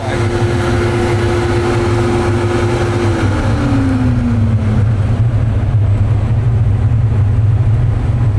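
A turbo diesel John Deere engine fitted in a Harley motorcycle runs on a dyno, a loud, steady close-up drone whose tone dips slightly partway through.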